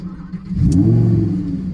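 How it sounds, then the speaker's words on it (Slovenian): A Lamborghini Huracan roars past, its engine revving loudly and swelling into a close, sustained growl as the car accelerates by. "da slišiš ves ta glorious sound tega motorja"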